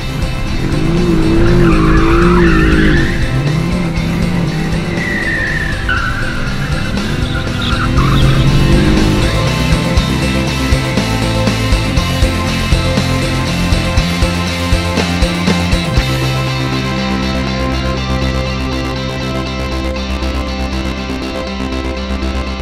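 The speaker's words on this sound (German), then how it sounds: "Wie fährt man das nochmal, wenn man hier so schnell einmal in so einem Kreis fährt und so? Du meinst Donuts?" A 2018 Mercedes-AMG GT-R does donuts, its engine roaring and revving loudly while the tires squeal and skid continuously in long wavering screeches, then the engine settles into a steady drone at the end.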